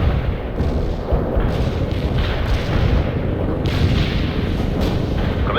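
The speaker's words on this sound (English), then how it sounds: "Artillery strike on the way" Artillery barrage in the PC strategy game World in Conflict: a dense, continuous roar of overlapping booms and rumbling explosions, loud and unbroken throughout.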